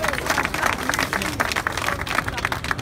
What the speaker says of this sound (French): Applaudissez pour ces femmes, pour ces Amazones,